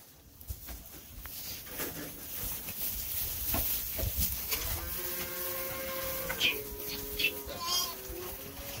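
Baby lamb and goats bleating on a farm, a few wavering cries rising over the second half amid steady barnyard background noise, one call after another at close range.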